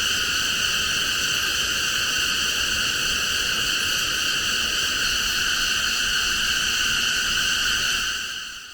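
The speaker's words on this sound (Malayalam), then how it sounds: "ഈ ചീവീടുകളുടെ ശബ്ദം രാത്രി ഉറങ്ങാൻ പറ്റില്ല എന്നാണ് വിചാരിച്ചത്" Dense, continuous cicada chorus in the Valparai forest near a container stay, a loud steady buzzing drone that holds unbroken for the whole stretch before fading slightly at the end, with no voices.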